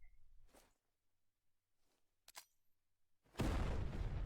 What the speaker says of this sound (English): you can see the explosion right there